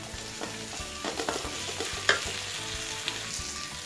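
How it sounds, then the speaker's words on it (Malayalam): Crushed ginger-garlic paste frying with onions hisses and sizzles in a pan while being stirred, with repeated scraping strokes and one sharper clink of the utensil midway, close and steady, no voices. "ചതച്ച് വെച്ചിരിക്കുന്ന ഇഞ്ചി വെളുത്തുള്ളി പേസ്റ്റ് ഇട്ട് കൊടുക്കാം. ഇട്ടിട്ട് നന്നായി ഇളക്കാം."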